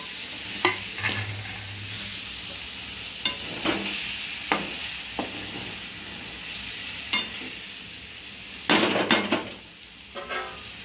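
Tomatoes go into okra (bhindi) frying in a pan, bringing a soft constant sizzle broken by repeated sharp scrapes and clinks of a spoon stirring against the metal.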